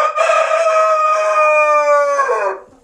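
A rooster crows once loudly and close by on a farm, a long harmonic cock-a-doodle-doo call that rises, holds, then trails off, with nothing else around it.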